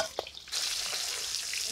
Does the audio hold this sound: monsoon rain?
no